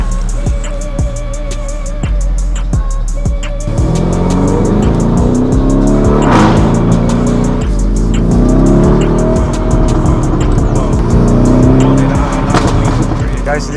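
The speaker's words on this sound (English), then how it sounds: "you have to make as much noise as possible anytime you drive a Lamborghini Urus with Akrapovic exhaust on Corsa mode" A Lamborghini Urus with an Akrapovic exhaust in Corsa mode idles with crackles, then revs hard through several loud, rising and falling engine sweeps close by.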